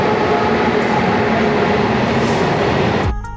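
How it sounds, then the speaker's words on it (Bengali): A Jhargram MEMU train pulls into platform 2, a loud, close, continuous rumble of rolling wagons with a faint high squeal, ending abruptly near the close. "ইতিমধ্যেই 2 নম্বর প্ল্যাটফর্মে প্রবেশ করেছে ঝাড়গ্রাম মেমু"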